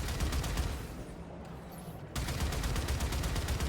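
Ship weapons fire in the Warframe video game, rapid repeating shots in a dense, loud burst. The barrage thins briefly midway, then resumes just as intensely.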